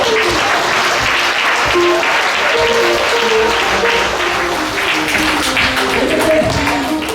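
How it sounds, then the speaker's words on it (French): A church congregation applauding during a Sunday service: loud, continuous clapping from a packed room, with faint voices and tonal sounds mixed in underneath. "nous applaudissons"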